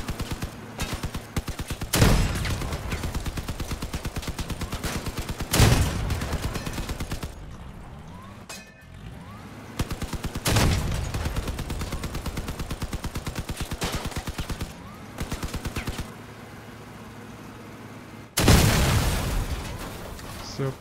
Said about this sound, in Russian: это пушка вот эта большая стреляет прямо